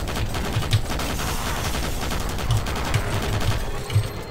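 Chain gun fire in Doom 3, a sustained loud burst of repeated shots with thudding low impacts, steady and close, with no talk over it.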